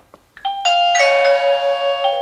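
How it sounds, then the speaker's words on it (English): A Mubview wireless doorbell camera's button is pressed, and a bright electronic chime rings out loud and close, one tone stepping into a second that holds and rings on for about two seconds with no voices. "So press the doorbell,"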